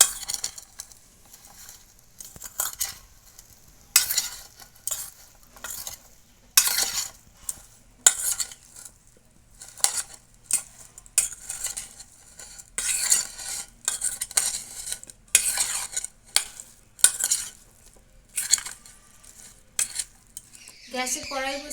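A spoon mixes soyabean with tomato, onion and capsicum in a bowl, making a series of short scraping, clinking bursts about once a second, close and fairly clear with no talking.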